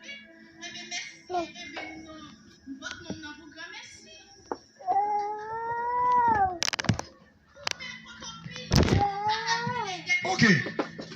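A cat gives a series of drawn-out meows and a wailing caterwaul, close and clear, while people talk and clatter in the background.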